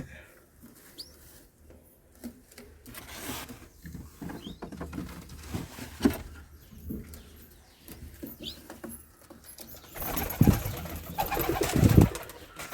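Pet pigeons kept at home, including a white male, coo softly among rustling and fluttering, with scattered pecking and pattering sounds and a louder burst of flapping near the end; no talking.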